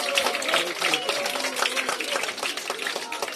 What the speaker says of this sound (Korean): 여러분 힘찬 격려의 박수 함께 보내주시기 바랍니다